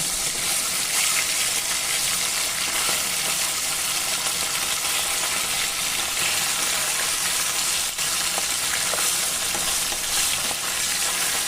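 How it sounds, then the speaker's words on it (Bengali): Pieces of hilsa fish frying in oil in a pan, a dense continuous sizzle with small pops, fairly loud and steady, no talking. "অন্য পিঠটা উল্টে আমি ও পিঠটাকেও হালকা করে ভেজে নেব"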